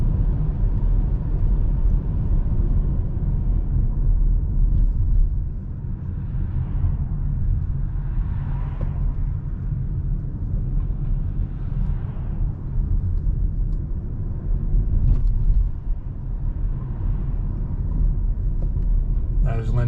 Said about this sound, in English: And we'll just drive down Broadway now.